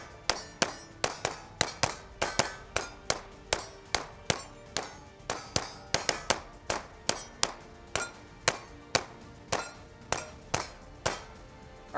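A Smith & Wesson M&P 2.0 pistol fires a fast string of shots at steel targets, each crack followed by a ringing metallic clang, about thirty sharp hits at an even, brisk rhythm.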